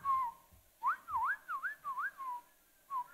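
Whistled melody from a live concert audience in a small venue: short rising and falling tuneful phrases in bursts, several whistlers together, fairly close and clear over a quiet room.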